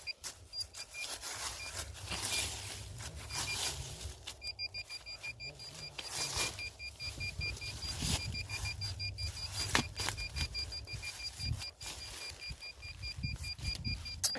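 A metal detector sweeps an urban exploration site and gives off repeated steady electronic beeps over a low background rumble, with scattered scuffs and handling noises.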